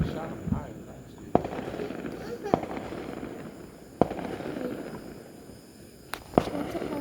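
Fireworks go off outdoors as several sharp, distant bangs spaced a second or two apart, over a background of crowd murmur and people talking.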